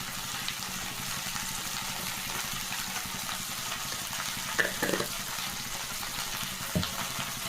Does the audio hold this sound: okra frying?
yes